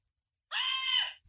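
A single high-pitched scream lasting under a second, sharp and loud against silence, in the manner of a Homer Simpson scream, standing alone with no other sounds.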